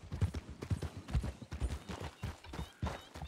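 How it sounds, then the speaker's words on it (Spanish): Rhythmic horse hoofbeats from the Red Dead-based RedM game, a steady clip-clop of several close, fairly loud strikes with no talking. "Escucho un caballo"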